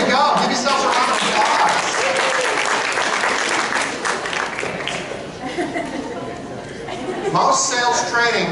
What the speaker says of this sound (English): Give yourselves a round of